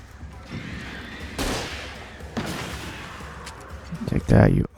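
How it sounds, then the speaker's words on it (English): Flare gun firing in the video game Alan Wake, sharp whooshing bursts and a loud crack near the end over a rumbling ambient background. "Let me get the flare gun just in case I need to use it."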